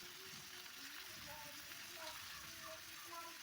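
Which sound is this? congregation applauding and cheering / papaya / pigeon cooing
papaya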